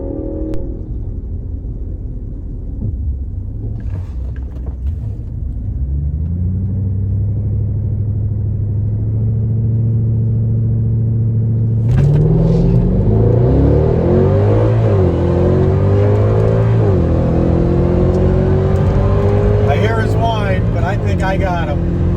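A Mercedes C63 with a EuroCharged V4 tune launches on a quarter mile run, its engine rising through gears in a loud, close, sustained roar with audible shifts and a faint whine.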